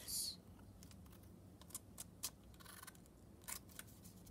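Scissors cut paper while folding an origami sea bream, giving several brief, quiet snips spaced irregularly against a near-silent background.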